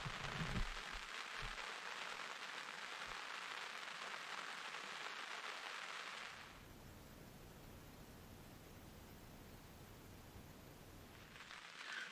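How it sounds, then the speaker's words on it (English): Steady rain pattering on a tarp at a lakeshore campsite, a dense continuous hiss that softens partway through and swells again at the end; no voices. "Or do I sit here underneath the tarp and watch the rain?"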